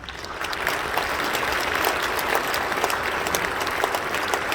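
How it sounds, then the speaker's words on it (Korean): Steady applause from a large church congregation at an Easter dawn service, dense and sustained throughout, fairly distant and even with no voices standing out. "잠깐 여기서 박수 좀 드리겠습니다"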